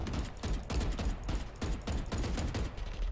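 Gunshots in Valorant, a run of loud, close shots fired in a fairly regular rhythm, roughly eight distinct cracks over a few seconds, with no talk.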